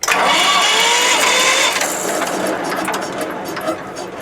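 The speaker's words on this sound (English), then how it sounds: "Next you push the button to engage the starter motor." A boat's starter motor whines and cranks the engine, close and loud, then turns into a sustained mechanical running rumble that gradually eases off.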